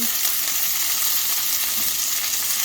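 Lamb chops sizzling loudly in a hot pan just after flipping, a dense, even hiss that holds steady throughout, close up with no speech.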